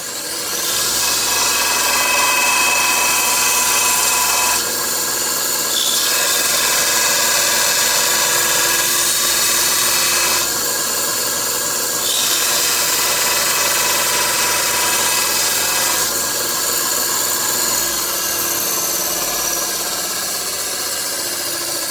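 A belt sander with a 60-grit belt grinds a G10 knife hilt in a loud, continuous abrasive whine, with brief shifts in tone as the workpiece is pressed and repositioned.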